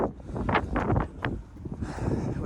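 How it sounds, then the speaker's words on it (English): Strong gusts batter the microphone at an outdoor ICF wall construction site, producing loud, uneven roaring bursts that swell and drop over a couple of seconds. "It's so goddamn windy out here."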